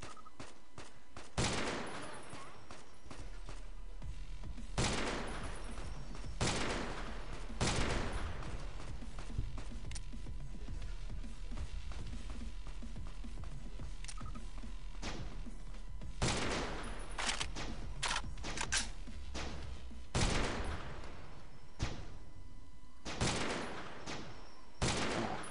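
Gunshots in the video game Fallout New Vegas, sharp loud single reports spaced irregularly across a long stretch, some in quick pairs, over a low steady background hum.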